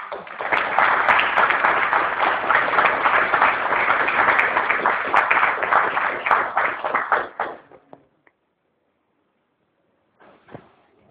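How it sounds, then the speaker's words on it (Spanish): An audience at an evening poetry lecture gives strong sustained applause to welcome the speaker, dense clapping for about seven seconds that dies away into silence before a brief sound near the end. "vamos a recibir con fuertes aplausos que se sientan a Rocío Silva Santisteban"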